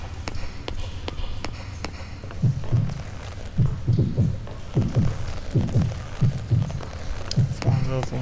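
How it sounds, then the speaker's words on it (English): Heartbeat sound effect in the video game Yomawari: Midnight Shadows, a low, steady double thump repeating at a quick, regular pace, starting partway through and continuing to the end. "My controller is heart beating quite fast."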